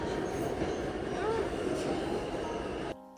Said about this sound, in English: Finally made it to the train station.